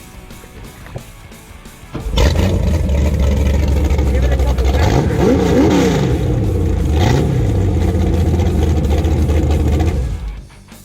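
A 21ft Ultra SS boat on the Sacramento River fires up after a short voice, then its engine roars close and loud, revving with rising and falling pitch sweeps before cutting off near the end.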